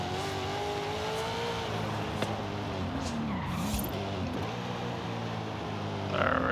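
A tuned all-wheel-drive car in Forza Horizon 5 roars loudly and continuously, engine pitch rising and dipping with brief tire squeals.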